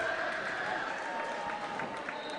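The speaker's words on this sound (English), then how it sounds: "Crowd loves it." Basketball crowd at a high school boys game between Anderson and LBJ roaring and cheering steadily, a dense loud wash of voices with a whistle-like tone running through it.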